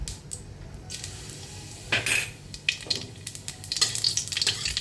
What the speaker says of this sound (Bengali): এবারে আমি দুটো শুকনো লঙ্কা দিয়ে দিলাম এবার একটু দিয়ে দেবো কালো জিরে শুকনো লঙ্কাটা একটু ভাজা ভাজা হলে